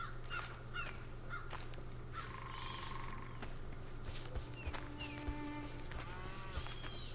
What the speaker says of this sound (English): woodpeckers, I think. Might be flickers.